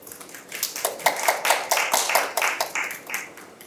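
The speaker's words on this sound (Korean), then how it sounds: "박수 부탁드립니다" Applause from a seminar audience at an academic conference, greeting a discussant as he is introduced: a few seconds of scattered, moderately loud hand claps in the room with no speech.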